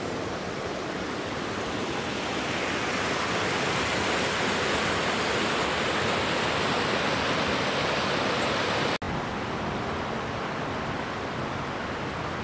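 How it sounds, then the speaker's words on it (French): Small stream along the Suzon near Dijon, babbling as a continuous, dense rush of water close by, steady throughout with a brief break near the end and no voices. "Le petit ruisseau clapote"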